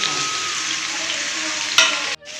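Eggplant and onion frying together with greens in a pan, a steady loud sizzle that holds evenly, then a brief sharp crackle and a sudden drop near the end.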